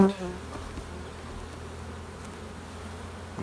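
Bees swarm around boosted hives, where two colonies share the same bees. A soft, continuous droning buzz carries steadily throughout, fairly faint, after a brief louder bump at the start.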